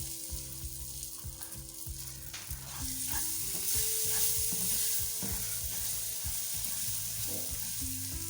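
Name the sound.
dry fruits roasting in semolina halwa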